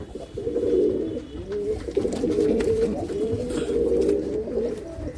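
Racing pigeons coo steadily in overlapping, rolling phrases for several seconds, fairly close and continuous, with no talk over them.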